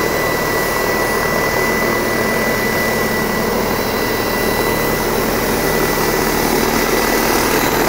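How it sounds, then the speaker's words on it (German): A remote-control model helicopter hovers steadily in place, its loud, continuous rotor and motor whine droning evenly without breaks, sounding much like a full-size helicopter. "das Ding klingt ja tatsächlich schon so ein bisschen wie so ein großer Hubschrauber"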